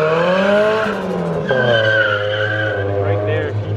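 A car drifting with its tires squealing and skidding, a loud continuous screech with shifting pitch and engine drone underneath, heard up close for several seconds.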